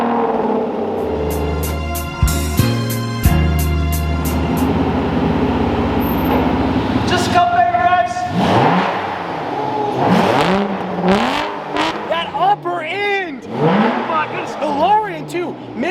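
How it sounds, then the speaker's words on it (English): A car engine cold start: it cranks and catches, then revs up and down loudly several times, the pitch sweeping between idle and higher revs. "We're gonna drop her down, and this is a cold startup."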